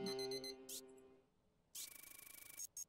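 A bright electronic alarm in the video game Papers, Please beeps in rapid pulses, broken by short gaps, with a tonal chime at the start; no voices are heard.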